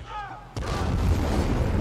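A bomb goes off in the video game Dying Light 2, a sudden loud boom followed by a sustained low rumbling roar, after brief talking beforehand.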